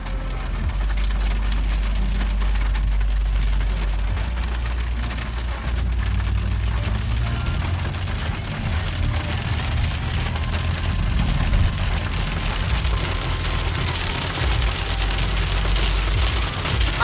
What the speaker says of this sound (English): there's a severe thunderstorm warning right now